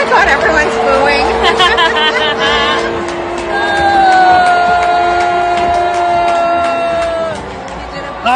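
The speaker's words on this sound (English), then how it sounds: "Oh my God, everyone's booing." A crowd boos Canadian Prime Minister Mark Carney as he is welcomed at an event. The roar of many voices is loud and sustained throughout, with shouting and babble mixed in.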